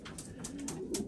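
A racing pigeon gives soft, low cooing notes close by, a short burst of gentle throaty calls over faint background noise.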